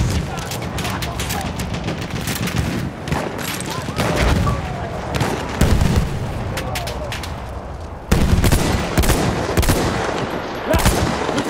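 Enemy machine gun fire in the Battlefield 1 video game: loud, rapid volleys of gunfire and bursts of shots, dense and continuous with sharp peaks and a heavier blast near the middle.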